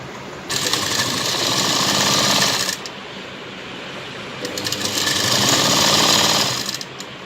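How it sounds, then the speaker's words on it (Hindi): A sewing machine stitches the boat-style neckline of a padded designer blouse in two steady whirring bursts, close and loud, separated by a short pause, with no voices. "तो देखिए इस तरीके से हम स्टिच लगाएंगे इसको।"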